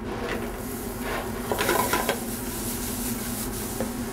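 Finely chopped garlic and onions fry in rendered bacon fat over high heat, giving a dense, steady sizzle with a few stirring scrapes and clinks of a utensil against the pan near the middle; no one speaks.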